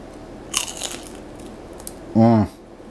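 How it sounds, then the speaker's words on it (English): A crispy ramen topping soaked in broth bitten into, a short crunchy crackle close to the microphone, followed by a brief spoken voice. "I don't know if you could hear the crunch from that, but that's been sitting in the broth while waiting to get to this point of trying it"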